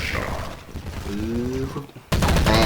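Gunfire in online Counter-Strike 1.6 play: a loud, sudden automatic burst near the end, after a stretch of muffled game noise and a brief voice.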